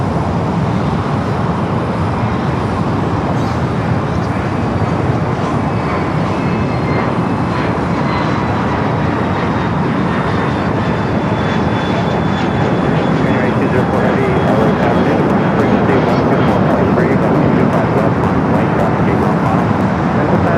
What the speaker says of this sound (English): the A350-900 coming up from Singapore